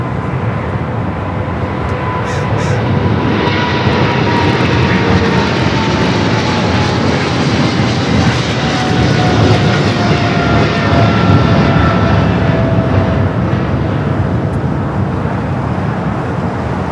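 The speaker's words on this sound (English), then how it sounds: "Air Tahiti Nui, the Dreamliner heading to the west gates" An Air Tahiti Nui Boeing Dreamliner taxis toward the west gates at Los Angeles International Airport, its jet engines giving a loud, steady roar that holds unbroken and close throughout, with no talking.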